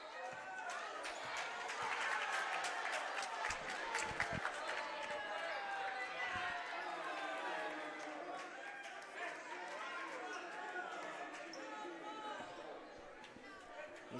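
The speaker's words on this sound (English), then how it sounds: "You hear some Warrensburg fans booing that call." Warrensburg-Latham fans in a high school varsity basketball gym boo a referee's call against Heyworth, a sustained crowd roar of jeers and chatter with sneaker squeaks and thuds, loud and continuous throughout.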